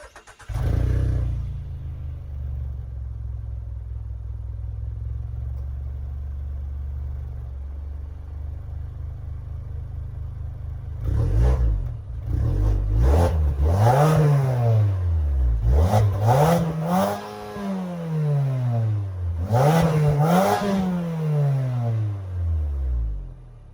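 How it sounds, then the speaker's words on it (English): A Mazda CX-30 Carbon Edition idles with a low, steady exhaust burble for several seconds, then revs in a series of quick rising and falling blips, loud and close, with no talking. "We're going to show you guys the exhaust sound in a second though."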